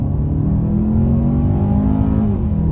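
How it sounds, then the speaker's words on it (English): A 2022 Hyundai Santa Fe Limited with the 2.5-litre turbo engine and front-wheel drive accelerates hard, its engine drone loud and continuous from inside the cabin, pitch climbing steadily through the gear. "Should give us a good opportunity to see how this car can accelerate off the line."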